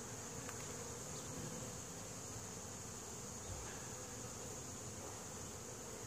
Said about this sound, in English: pissing off bees left and right.